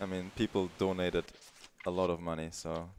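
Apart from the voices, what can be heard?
None of the usual background noises is heard.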